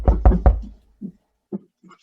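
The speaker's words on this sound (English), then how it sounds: "Here's a knocking indeed." Three loud, sharp knocks on a wooden door in quick succession during a stage performance of Macbeth, then a few fainter knocks after short pauses.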